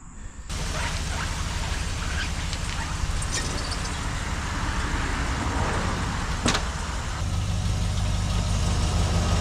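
A stock pickup truck idles with a steady low rumble while backing up, heard close and continuous, with a brief knock partway through.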